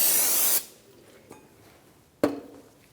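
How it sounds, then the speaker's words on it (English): A short, close burst of aerosol spray hisses onto a Mazda 3 rear brake rotor, then stops, followed by a quiet tap and a sharper knock. "And we can spray the front."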